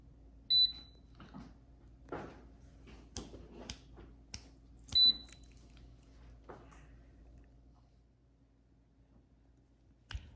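An air fryer's control panel gives two short, high electronic beeps a few seconds apart as its buttons are pressed, with soft clicks and handling noises in a quiet kitchen between them.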